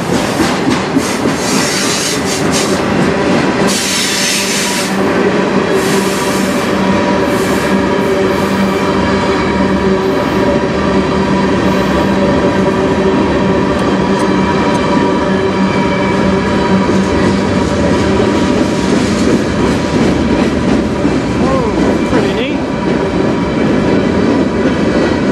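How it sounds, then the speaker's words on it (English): A long CN freight train rolls steadily past at close range in Sarnia, Ontario, on the Strathroy Subdivision, with loud continuous rumbling, rhythmic wheel clatter over rail joints and occasional faint squeals throughout. "Big train."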